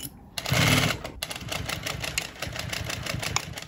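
Sewing machine set to a short stitch, sewing a bag seam with a 1.2 cm margin; a steady, close mechanical whirring with rapid needle clatter runs throughout, loudest in a brief burst near the start.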